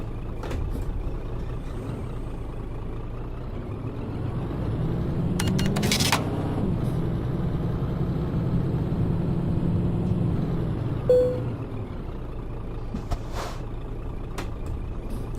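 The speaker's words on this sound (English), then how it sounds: "So start the truck up." Truck engine starting up in the Euro Truck Simulator 2 game, a steady low diesel rumble that swells after a brief burst, with an air-brake hiss and no talking.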